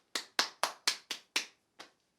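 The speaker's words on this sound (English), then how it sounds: "I'm clapping for myself" Hands clap by themselves in a podcast studio: seven sharp, close claps in an uneven rhythm, the last one softer and set apart after a short pause.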